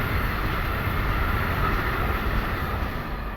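A train runs past on railroad tracks right beside the spot, a loud, steady rumble with rolling rail noise that holds constant throughout with no voices.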